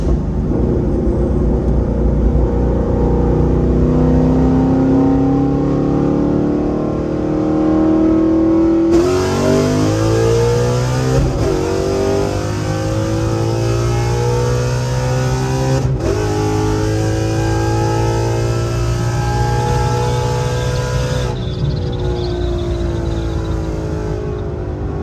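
An FBO naturally aspirated Gen 2 5.0 V8 car with a very loud exhaust roars from inside the cabin, its engine note climbing repeatedly through hard acceleration runs and gear changes, a deep, continuous, rising drone throughout.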